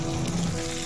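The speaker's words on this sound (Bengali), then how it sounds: "পেঁয়াজ দিয়ে একটু মাছ ভাজা বানাচ্ছি" Fish frying with onion in a home kitchen gives a steady, close, hissing sizzle with no voices over it.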